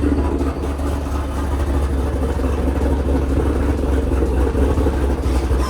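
An LS V8 engine in a car idles with a deep, steady low rumble, loud and close, holding constant throughout without revving.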